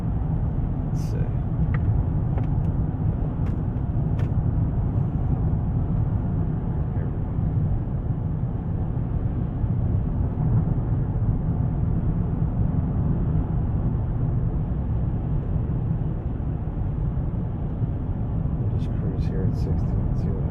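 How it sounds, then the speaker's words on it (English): A 2011 Honda Pilot with a 3.5L engine pulls away and accelerates, its low, steady engine and road rumble droning inside the cabin throughout, with a few faint clicks near the start and end. "I'm accelerating. I just pulled out of the shop"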